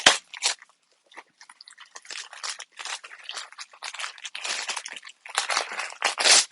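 Someone bites into a pickle and chews, producing close, wet crunches in irregular bursts separated by brief pauses, with no talking.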